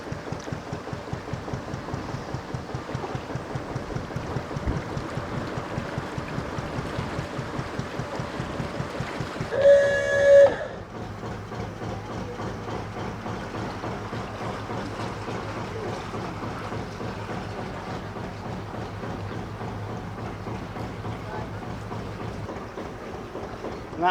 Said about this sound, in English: Not helped by this wind that's blowing right down the canal